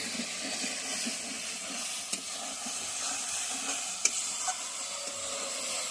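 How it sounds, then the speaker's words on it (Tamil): Masala with turmeric and garam masala sautéing in a pan for an Odisha-style fish curry, giving a steady close sizzle and hiss with soft stirring scrapes and a couple of brief clinks, no talking. "நல்லா வதக்கி விடுறாங்க"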